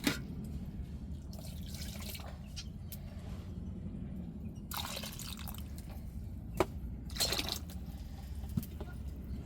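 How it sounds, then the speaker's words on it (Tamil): Water poured into a pot of salted dried rock-fish (karuvadu) curry, heard as faint, intermittent splashing and trickling bursts over a low steady background hum. "குழம்புக்கு தேவையான தண்ணி சேர்த்துக்கிடுவோம்."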